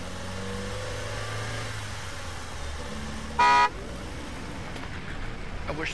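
Video game car idling at a recycling center gate, a low steady engine hum with a brief horn toot midway, fairly faint throughout.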